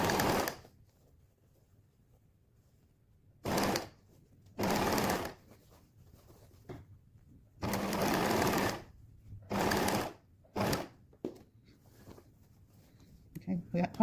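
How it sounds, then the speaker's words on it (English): Sewing machine stitching along the binding edge of a quilted waistcoat in several separate bursts, with pauses between runs and faint background talk in the gaps. "where we want to sew is right on the edge of the binding"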